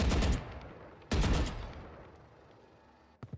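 Gunfire on a shooting training ground in a video game: a loud burst of rapid shots, another burst about a second later decaying into a long tail, then a couple of short sharp reports at the end.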